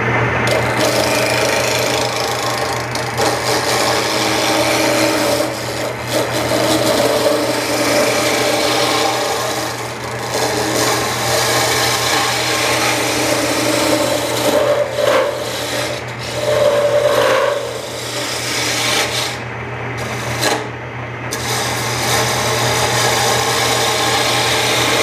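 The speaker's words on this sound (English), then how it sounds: "I'm gonna start out with my gouge." A carving gouge cuts into wood to shape a prototype pattern, giving loud, continuous rasping and scraping strokes over a steady low hum, with no talking.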